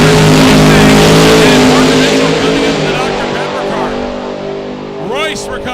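Classic Mustang on a drag racing run, a very loud engine roar with falling pitch sweeps as it passes and fades down the strip, and a brief squealing burst near the end.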